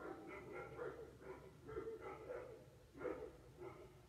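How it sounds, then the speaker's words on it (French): A dog barks in a series of soft, somewhat distant bursts at an uneven rhythm, heard over low room noise. "Cachou qui aboie, donc si Cachou aboie,"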